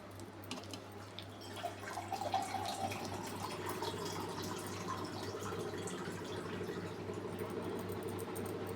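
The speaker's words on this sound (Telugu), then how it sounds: "కొద్దిగా వాటర్ వేసుకొని కలుపుకుంటున్నానండి" Water is poured and mixed into urad dal batter with salt, making a steady, faint trickling and splashing sound. A low mechanical hum runs underneath throughout, and no one speaks.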